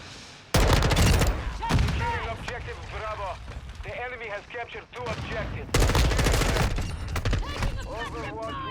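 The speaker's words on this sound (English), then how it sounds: "Where am I getting shot from?" Rapid automatic gunfire in Call of Duty MW2 multiplayer with an M4 rifle, loud bursts starting and stopping, with frantic voices talking over the shots.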